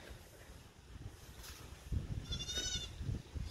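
Goats on a farm near a goat shed bleat from close by, one clear wavering bleat rising above a rumbling, windy background with scattered knocks.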